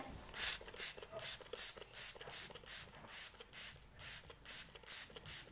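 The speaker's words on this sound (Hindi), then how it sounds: "मैंने इस पर स्प्रे किया था, मैं आपको अगेन करके दिखाती हूँ" Makeup setting spray misted repeatedly over a mineral foundation base, about a dozen short, even hissing bursts in a steady rhythm, close and fairly quiet with no talking.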